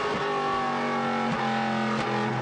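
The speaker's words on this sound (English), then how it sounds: "The sound inside the car, a lot different from what you get from underneath the car at the back end" Inside a NASCAR Pinty's Series race car on track, a loud, steady engine drone with harmonic tones that shift slightly in pitch as the car changes speed, heard continuously from the cockpit.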